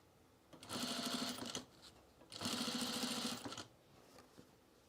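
A sewing machine stitching pajamas runs in two steady bursts of about a second each, a rapid whirring drone with a short quiet pause between, close and fairly quiet.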